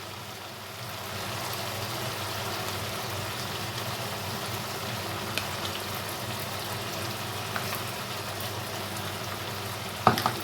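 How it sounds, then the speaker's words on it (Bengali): Mustard and poppy seed paste sautéing with spices and green chillies in oil in a pan, a steady soft sizzle throughout, with a single sharper clink near the end. "এখন এই শস্য পোস্ত বাটাটা মশলার সাথে খুব ভালো করে একটু কষিয়ে নেব"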